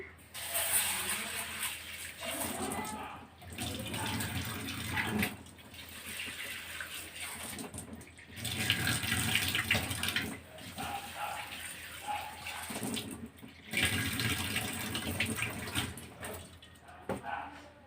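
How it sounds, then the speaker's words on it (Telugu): Lentils are rinsed by hand in a vessel under running tap water. Splashing and gushing come in several bursts separated by short pauses, with occasional clinks of the container. "ఇది కడిగేసి బాగా కడిగి అలా పెడతాను"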